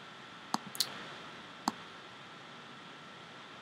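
Computer mouse clicks on a tool in Fireworks software, three or four crisp, close, isolated clicks over faint room hiss.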